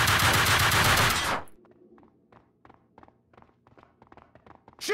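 Dense rapid gunfire from the PC shooter game Max Payne 2 roars loud for over a second, then cuts out abruptly to quiet scattered taps and footstep-like clicks, with another loud burst starting at the very end.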